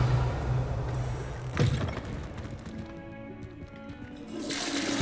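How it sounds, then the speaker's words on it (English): A toilet flushes in the video game Hogwarts Legacy, a steady rushing gush of water over a low hum, briefly surging midway and swelling again at the end, with no talk. "Flush the toilet."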